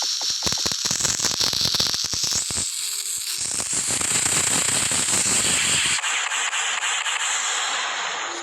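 Rocket fireworks launched by hand go off in a rapid crackling burst, then a loud, sustained fizzing hiss as the rockets fly off, which fades into a thinner sizzle.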